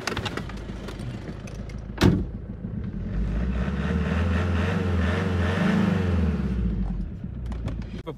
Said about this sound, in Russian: Ну и можно подгазовать, в принципе, посмотрим, что он не будет дыметь.